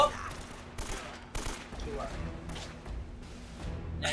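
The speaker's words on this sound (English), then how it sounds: "Can you shoot the guys through the grate? They're shooting at you." Gunfire in Uncharted: Drake's Fortune comes as scattered sharp shots and short bursts over a continuous background of game noise, with people talking over it.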